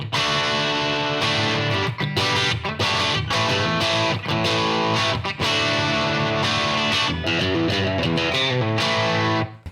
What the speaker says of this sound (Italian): effetti tipo questo distorsore che rende la chitarra un po' più aggressiva e